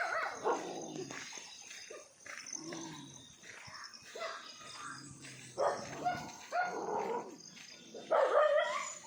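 Several dogs barking and yipping close by outdoors, in uneven bursts with a few whimpers between them, moderately loud, with faint voices in the background.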